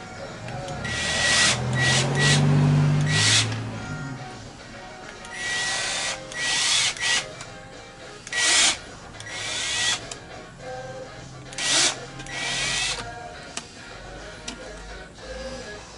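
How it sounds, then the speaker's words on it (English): A power drill bores through the plastic fan shroud of a Nissan Skyline R33 GTST in several short bursts, whirring spurts separated by pauses, with clicks and handling noises between them. "I'll match drill these."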